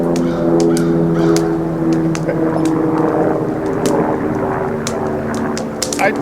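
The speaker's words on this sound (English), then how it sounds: "there's either a plane going by or a helicopter" A low, steady drone of a plane or helicopter passing overhead at a rustic log cabin hunting camp fills the background, with scattered sharp bird calls and clicks on top.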